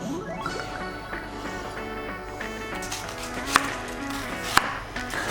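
A knife chops carrots, peppers, onion and garlic on a board for spaghetti sauce, giving quiet, irregular taps with two sharper knocks near the end over faint background tones.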